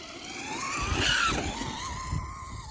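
Traxxas Slash 4x4 VXL RC car racing around a snowy, frozen track, its electric motor whining with rising and falling pitch as it passes close, with a slight skid of tires on snow and no talk.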